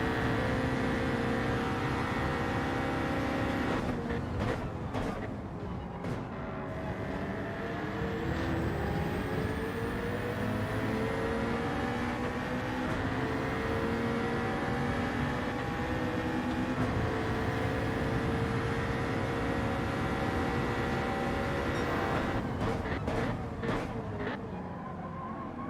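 BMW Z4 Group 3 race car in Gran Turismo 7, a steady, loud engine drone with rising and falling rev sweeps as it climbs through the gears, continuous for the whole stretch with no talk.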